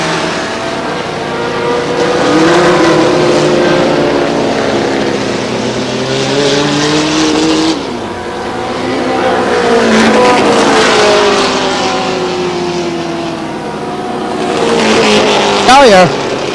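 Race cars at Star Speedway in a 1993 race, engines roaring past in loud waves as the pack circles, with a track announcer talking over the continuous motor noise.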